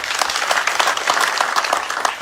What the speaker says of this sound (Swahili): Sami fire, simama tukupigie makofi.